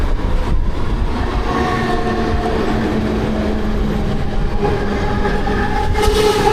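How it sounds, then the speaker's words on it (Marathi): A Mumbai local train on the urban line toward Panvel rumbles loudly and steadily up close, with faint tonal whines rising over the continuous roar of wheels. "ट्रेन आलेली आहे तुम्हाला पनवेलला जाणार"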